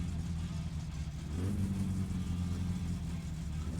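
A car engine in My Summer Car cranks over and catches, then settles into a steady running drone that swells slightly as it revs, heard under quiet background talk.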